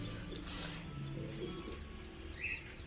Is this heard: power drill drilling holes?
no